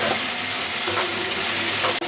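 Ingredients for chicken pasta sizzle in a pan, loud hissing frying with faint stirring scrapes, close, ending in a brief dropout near the end.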